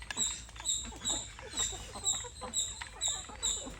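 Chickens cluck in short repeated bursts, fairly close, with a steady faint hum underneath.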